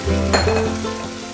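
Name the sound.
mussels sizzling in hot oil in a pot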